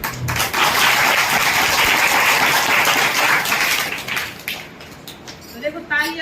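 A crowd in a temple hall applauds during a religious discourse on the Bhagavad Gita in Kundalpur: loud, dense clapping that holds steady for about four seconds and then thins out, with a voice speaking briefly over the fading applause.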